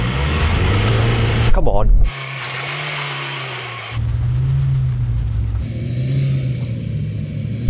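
Ford Transit van with its engine in low range, straining under load in a tug of war against an F-150 Raptor, giving a steady deep rumble that shifts pitch partway through, with a voice speaking briefly over it.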